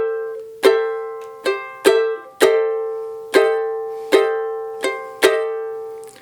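Ukulele strummed in a slow cavaquinho-style samba rhythm, eight crisp, ringing strums at uneven spacing with an anticipated chord change, played alone and clear with no voices.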